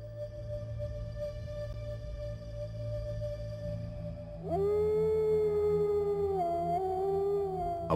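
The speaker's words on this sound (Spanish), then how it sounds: "Aullando, el macho dominante agrupa a todos los integrantes de la manada, inundando los montes con un halo de vida y muerte" Wolves howl at night in the hills of Galicia, a long sustained howl joined midway by several more voices rising into a loud chorus of overlapping wails.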